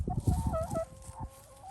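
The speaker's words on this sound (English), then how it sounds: "So 9 hens and 1 rooster." Nine hens and one rooster cluck and murmur close by in short, irregular bursts, with a few higher squawk-like calls mixed in.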